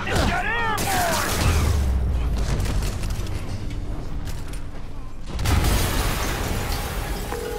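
An explosion in a Spider-Man video game: a heavy, sustained roaring blast with rumbling low end, swelling again near the end, mixed with game sound effects and voices talking.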